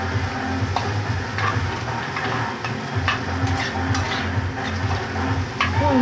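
Chow mein noodles fry in oil in a home pan, giving a steady close crackle and sizzle with scattered ticks and clinks of a utensil stirring against the metal, continuous throughout.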